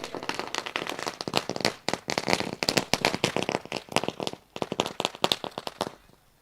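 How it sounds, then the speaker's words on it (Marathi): Firecrackers and fireworks bursting to welcome a guest at a village cricket match, a dense, loud barrage of rapid crackling pops that runs almost continuously and thins out only at the very end. "फटाक्यांच्या आतिषबाजीने मात्र साहेबांचं या ठिकाणी स्वागत केलं जातोय."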